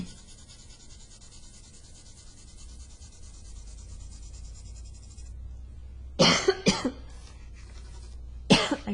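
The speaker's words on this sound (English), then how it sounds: "Again, I apologize for the coughing." After a steady hiss, a few sharp coughs burst out close by in quick succession, followed by one more cough a moment later.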